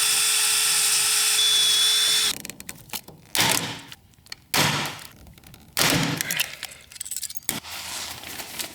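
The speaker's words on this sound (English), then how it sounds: "And then we're just gonna drill these holes, rivet this thing in, and then we're done." A drill bores holes in a Land Cruiser 80 awning mount, first a long high-pitched whine, then several short loud bursts broken by pauses and clinking metal.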